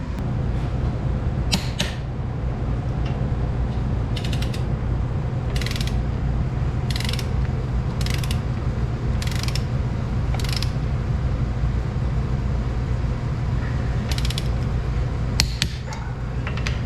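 Ratchet wrench torquing down bolts on a car differential for a 240SX, a series of short close ratcheting clicks in bursts over a constant low mechanical hum.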